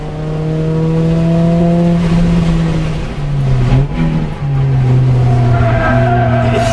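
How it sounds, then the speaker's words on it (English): Tires on a Honda Prelude Type S squeal and slide through a left-hand corner under braking, a loud sustained screech over the engine note during a hot lap. "On the brakes, into the left-handers, sliding it through the corner."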